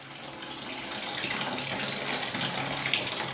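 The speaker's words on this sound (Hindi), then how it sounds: "इस रास्ते से पूरा पानी बाहर निकल आएगा" Water drains steadily from the open valve of a home water heater (geyser) being flushed, a continuous close hissing gush with no pause, heard alone.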